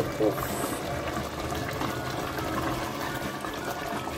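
Homemade tomato sauce with carrots simmers and bubbles in a pan, a steady soft sizzling hiss running throughout, with a voice speaking over it.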